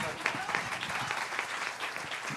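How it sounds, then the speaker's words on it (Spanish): Quiet, brief applause from a church congregation, a soft continuous patter of clapping heard at some distance with faint voices mixed in. "Dele un aplauso grande a Dios."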